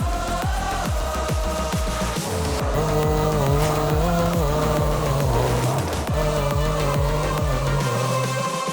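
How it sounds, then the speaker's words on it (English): A big car in a movie teaser roars and screeches with engine revs and tire squeals over a loud, dense music score, steady and close throughout. "Oh, a big car out there."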